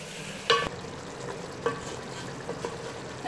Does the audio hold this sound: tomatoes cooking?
yes